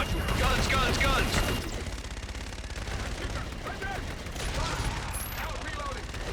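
Dense aerial gun run in Call of Duty: Infinite Warfare, a loud continuous roar of rapid cannon fire that eases after the first seconds, with radio-style voices and battle chatter over it.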